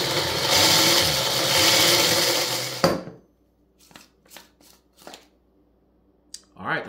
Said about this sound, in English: give it a good shake, make sure everything kind of gets moved around